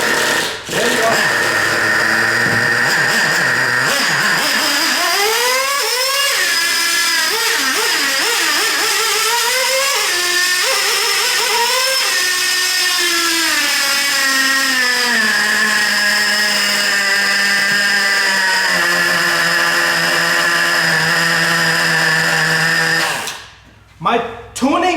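A Traxxas Revo 3.3 nitro RC engine runs loud and steady for most of the stretch, its high-pitched whine rising and falling with throttle blips before cutting off near the end.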